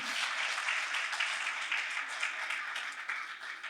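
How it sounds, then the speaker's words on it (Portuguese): A church congregation claps steadily during a sermon, a continuous wash of many hands applauding at moderate volume throughout. "Você pode aplaudir o Senhor?"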